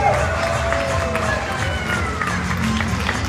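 Crowd applause at a formal ceremony for a director of specialists, a dense continuous patter of many hands under a voice on a loudspeaker announcing over it.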